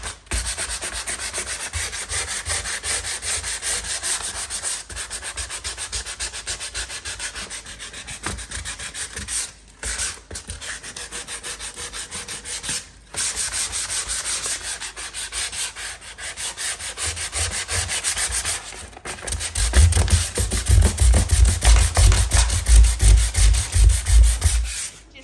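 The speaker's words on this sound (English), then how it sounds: "I can sand it." Continuous rough sanding on a painted accent wall in a small room, a loud steady scraping rasp that runs on with a few brief pauses and grows heavier and more rumbling near the end, with no talking.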